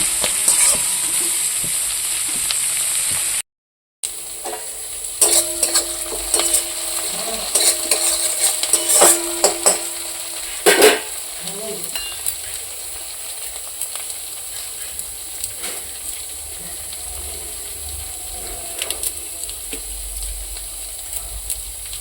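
Prawns fry with onion in a pan, sizzling steadily throughout, with repeated clinks and scrapes of a spatula stirring against the pan and a brief dropout near the start.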